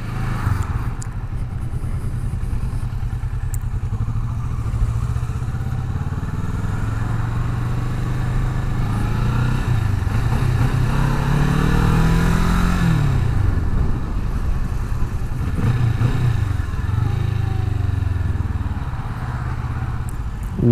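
A Kawasaki Vulcan S motorcycle rides while filtering through traffic, its engine droning steadily with rising and falling revs over continuous wind rush and the hum of surrounding vehicles.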